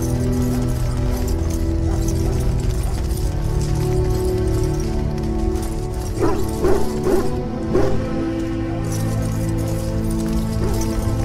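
Hounds in the Grey Warden camp in Dragon Age Origins, giving a short cluster of barks and yips over a steady hum of camp ambience.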